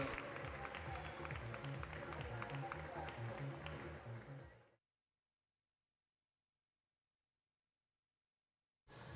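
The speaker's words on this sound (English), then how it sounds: "Give him a big round of applause as he comes into the last 5 meters." A crowd at a swim meet applauds and cheers a swimmer finishing a 400, a dense, steady roar of clapping and voices echoing in an indoor pool that cuts off abruptly, followed by silence.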